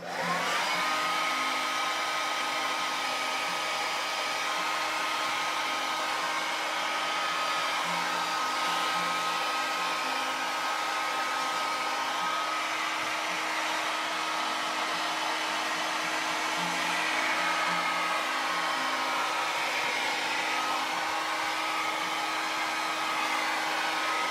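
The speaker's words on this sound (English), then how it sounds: "So I want to hit it with the blow dryer, see if it gets rid of any of this shine and stays flat." A handheld blow dryer runs steadily and close for the whole stretch, a continuous loud whir with a faint whine, drying matte varnish on a painted figure of Seven of Nine.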